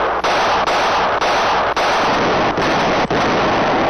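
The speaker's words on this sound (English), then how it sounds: "Keep firing!" Cartoon gunfire and artillery fire pounding in a loud, continuous barrage, with several sharp booming hits cutting through the steady roar over a few seconds.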